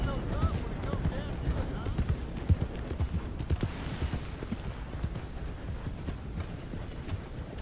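A horse gallops in the video game Red Dead Redemption 2, its hooves clip-clopping in a quick, steady rhythm that runs throughout, with a voice speaking over the hoofbeats.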